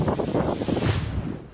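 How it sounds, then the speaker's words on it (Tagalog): Strong typhoon wind roars and buffets the microphone in continuous gusts in Sabtang, Batanes, with a rough, rushing texture and no voices. "ganito pa kalakas ang hangin sa bayan ng Sabtang sa Batanes"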